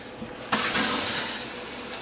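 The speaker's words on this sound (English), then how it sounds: "So I'm going to turn my water on." Tap water gushes on abruptly after a short quiet moment once the cold water supply is turned back on at a sink, then runs steadily and fairly loud to the end.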